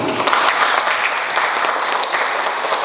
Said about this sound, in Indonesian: Mari kita berikan aplaus sekali lagi.